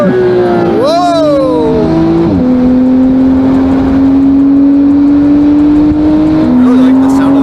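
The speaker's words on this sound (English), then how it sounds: "I really like the sound of this exhaust." A loud Porsche GT3 RS engine with a titanium race exhaust revs up, drops sharply on a downshift, then holds a steady throaty drone close by.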